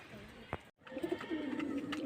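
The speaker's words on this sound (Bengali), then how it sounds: "এই সারানপুরের নাপতা পায়রাগুলো দেখছেন" Pigeons of the Saharanpur nafta breed coo at a pigeon seller's in Beldanga, Murshidabad: a short, near coo with a low warbling call after a brief gap, plus a soft thump, and no talking.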